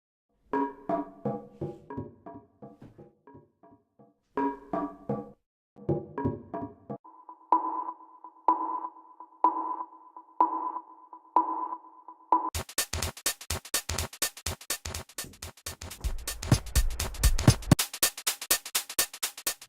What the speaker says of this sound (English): So the top loops, let me have a listen to these.